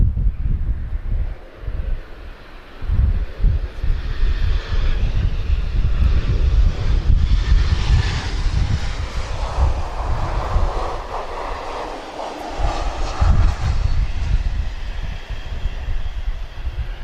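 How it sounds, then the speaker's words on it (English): A passenger airplane taking off at Lisbon airport, its jet roar heard from a distance as a broad, loud rumble that swells and holds for many seconds, with some wind buffeting the microphone. "Oh, let's have a takeoff."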